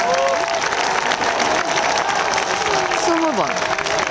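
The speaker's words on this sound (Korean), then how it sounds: "더 큰 박수와 환호가 필요합니다." A large audience claps and cheers continuously and loudly at a Marine Corps show during the 2015 Gunhangje festival, a dense, steady wash of applause with a whistle-like tone sweeping through it.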